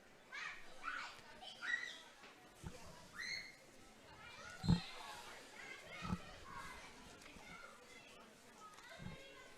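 Children play and call out on a hill beside a camogie pitch at a Galway Senior B final, their distant shouts and chatter rising and falling, with an occasional louder thud and a commentator's voice over the top.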